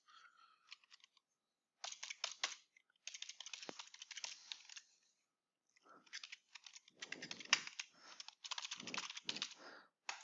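Computer keyboard typing comes in quick bursts of close, crisp key clicks, separated by short pauses, with no other sound.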